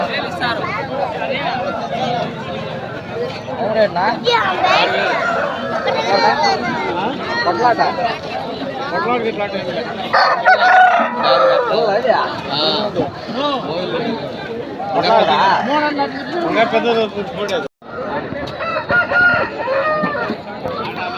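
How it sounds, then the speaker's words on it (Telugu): Roosters crowing amid the crowd at Pileru poultry market, including a Parla breed cock about 1.5 years old weighing 4 kg, with crows and clucks rising over dense chatter and babble throughout. "వీడియోలు చూసిన పర్లా జాతికి చెందిన కోడిపుంజు"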